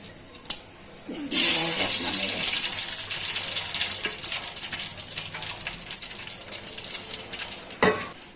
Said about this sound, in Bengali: ডিমটা ফাটিয়ে নিচ্ছি, ফেটে ভেজে নেব।